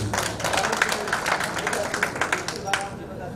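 Audience applause at a mushaira poetry gathering, dense and steady clapping from a crowd that holds for several seconds before tapering off.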